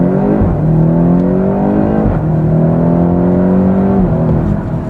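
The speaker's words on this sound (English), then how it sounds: "So let's just hear if we can hear the exhaust notes now." A BMW X6 M (F86) performance SUV's exhaust drones steadily from inside the cabin, rising in pitch through the gears with brief dips at each shift, loud and continuous.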